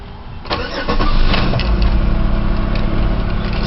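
A 2001 Chevrolet Malibu with high mileage cold starts in winter, the starter cranking briefly before the engine catches, and then settling into a loud, steady, close-up idle.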